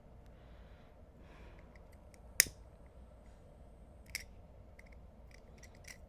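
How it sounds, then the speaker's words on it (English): Scissors snip through macrame cord in one sharp, close cut, followed by a second, fainter snip, against a quiet background. "Snip off, just cut the cord off"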